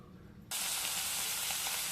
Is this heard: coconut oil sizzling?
yes